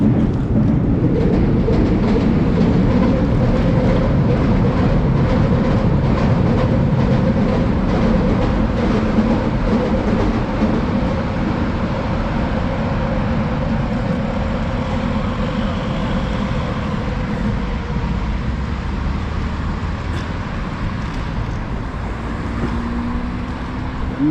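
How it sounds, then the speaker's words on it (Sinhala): A train rumbles steadily overhead for the whole stretch, a loud continuous roar of wheels and carriages passing close by, with no voices. "මේ ට්‍රේන් එක යන මෙතන උඩින්"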